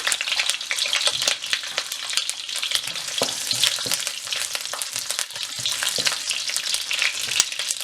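Garlic cloves sizzle and crackle steadily in hot oil for Chicken 65 prep, with a dense, continuous frying hiss broken by sharp pops, plus a few soft stirring clinks nearby.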